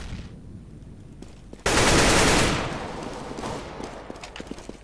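A loud, close burst of M4 rifle fire in the game CS:GO, roughly a second of rapid shots that fades into a softer rumble, followed by scattered clicks and light in-game noise.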